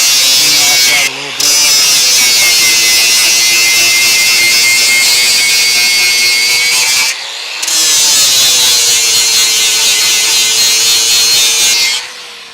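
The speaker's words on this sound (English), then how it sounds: "Use the grinding disc for this part, soft pad, whatever you're comfortable with." A grinding disc scours metal clean on a Lexus GX 460/470 during a rear bumper install, a loud, steady high-pitched whine that runs continuously with two brief pauses where the tool lifts off.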